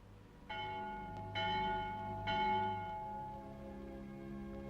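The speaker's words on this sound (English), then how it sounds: "The Vespers bell." A church bell tolls for vespers, struck several times in succession with long ringing overtones that build and linger, steady and resonant at a moderate distance.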